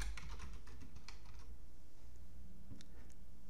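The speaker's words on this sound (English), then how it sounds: "Enter your Wi-Fi network password into the Wi-Fi key box." Typing a Wi-Fi password on a computer keyboard: a quick burst of close key clicks, then a pause and a few scattered final taps.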